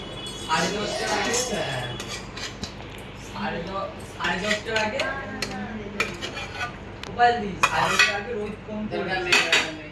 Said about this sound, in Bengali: আলু দিয়ে একটু নাড়িয়ে দেবো